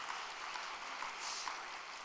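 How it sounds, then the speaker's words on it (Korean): Audience applause at an indoor gathering, faint and steady, a soft wash of clapping lasting about two seconds with no voices over it. "우리 박수를 한번 보내주시죠"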